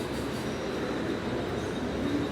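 Steady low rumble of a train at a Mumbai station, with a faint metallic squeal near the end, continuous and fairly loud.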